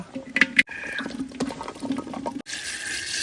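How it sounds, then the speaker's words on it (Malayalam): Water is poured into a clay pot of washed, finely chopped tapioca, a close running splash and gurgle that continues for a few seconds. "ആവശ്യത്തിന് വെള്ളം ഒഴിച്ചു കൊടുക്കുക"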